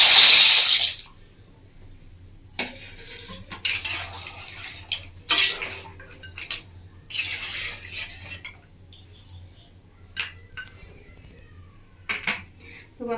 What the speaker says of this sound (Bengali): এবার আমি দিয়ে দেবো এর মধ্যে পাস্তাগুলো।